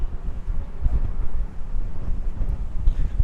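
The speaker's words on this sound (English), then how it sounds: "the power of the wind is immense this morning" Strong wind buffets a microphone on a cold March morning walk at Griffith Park Observatory in Los Angeles, a continuous loud low rumble with gusting swells.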